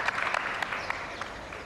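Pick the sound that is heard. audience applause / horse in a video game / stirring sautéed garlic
audience applause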